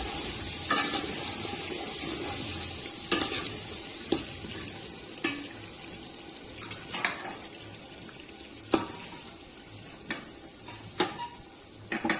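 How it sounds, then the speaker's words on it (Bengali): Potatoes frying in oil in a pot on a gas stove as they are lifted out, a soft continuous sizzle punctuated by sharp clinks and scrapes of a utensil against the pot, with no talk. "এগুলো মোটামুটি ভাজা হয়ে গেছে, এবার আমি হাঁড়ি থেকে আলুগুলোকে তুলে দেবো।"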